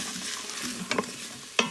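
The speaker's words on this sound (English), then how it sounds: "what I'm doing now is just letting the onions pretty much saute in there" Onions sautéing in a pot give off a low, steady sizzle, close and soft, with two brief clinks of a utensil near the end.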